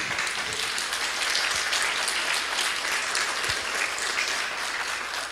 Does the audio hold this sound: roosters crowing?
no